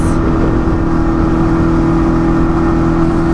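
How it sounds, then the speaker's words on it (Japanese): A Honda Hornet 250 motorcycle is held at full throttle inside a tunnel, a loud, steady, high-revving engine roar that rings off the tunnel walls and stays constant throughout. "皆さん大好きなトンネルで アクセル全開にしてみたいと思います。"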